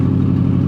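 Engine of a 1979 Ford Bronco with a rotted-out exhaust manifold runs noisily in winter, a steady, loud, low rumbling drone heard up close for under a second.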